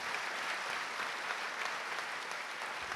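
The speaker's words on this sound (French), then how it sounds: "C'est Sophie Talman, je vous demande d'applaudir." An audience at an award ceremony claps in sustained, dense applause throughout, a steady wash of many hands with no single voice standing out.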